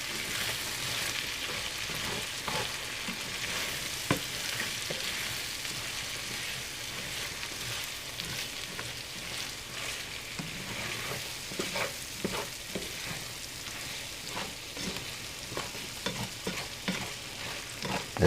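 Potatoes with sausage sizzle and crackle as they fry in a skillet for a Southern breakfast dish, with a steady hiss and intermittent scraping from stirring, close-up and without talking.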